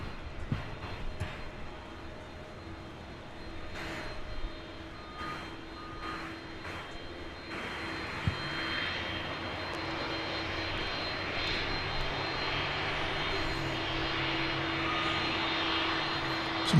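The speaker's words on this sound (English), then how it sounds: "Some double tri-jet action for you there." Two tri-jet airliners take off at night at DFW Airport. A loud, steady jet-engine roar builds and broadens, rising in intensity toward the end with no voices.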